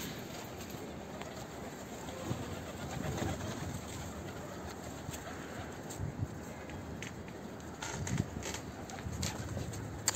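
Pigeons coo softly amid faint, rustling background noise, distant and low, with occasional small knocks and no clear talking.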